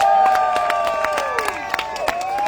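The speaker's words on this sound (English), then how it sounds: "Is this all the round of applause we are giving to her?" An outdoor crowd at a Biafra rally in Washington DC claps and cheers steadily, with distinct handclaps popping through the steady roar and bright whistling tones gliding above it.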